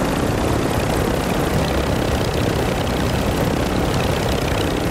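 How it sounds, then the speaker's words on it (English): Broadband rotor and engine roar of a helicopter in the Call of Duty Warzone map Vondel, loud and steady throughout with no voices. "We have a heli too, I'm gonna bring the heli."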